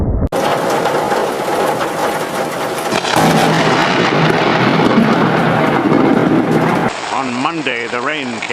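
Thunder from a close lightning strike during a rainstorm, a loud sustained rumbling roar filling the clip, with a sharp crack at the start and a renewed burst midway, people talking excitedly toward the end.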